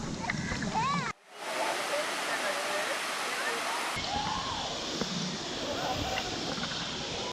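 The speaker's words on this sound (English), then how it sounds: "Now we're off to the waterfall." Waimea Falls on Oahu pours as a steady, broad rushing roar of falling water, loud and continuous, with voices talking over it near the start.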